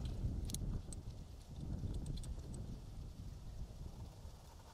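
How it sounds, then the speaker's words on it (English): Wind blowing outdoors at a target-shooting spot, heard as faint, gusty low buffeting against the microphone with a few small high clicks scattered through it. "This wind is not our friend."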